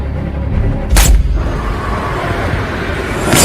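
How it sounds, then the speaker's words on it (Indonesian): Sniper rifle gunshot in a film scene, a sharp loud crack followed by a booming low rumble, with a second sharp burst near the end over a steady cinematic background. "tembakan Henry berhasil mengenai target pada bagian leher."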